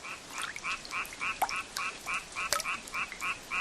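Frogs croak in a steady rhythmic chorus, with about a dozen evenly spaced two-toned calls. Fainter clicks and an occasional sharper chirp sit among them against a quiet night background.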